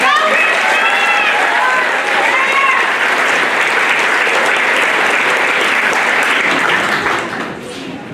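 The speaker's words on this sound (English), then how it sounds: "we have a round of applause for our first" Sustained applause from a large audience at a middle school academic awards ceremony, loud and steady for several seconds, with faint cheering voices mixed in, then tapering off near the end.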